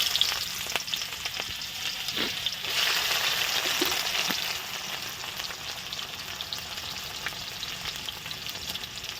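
Onions fry in hot oil already used for frying potatoes, cooked for a village-style chicken skin curry: a steady, dense sizzle with a few soft stirring clicks, close and alone, with no talking.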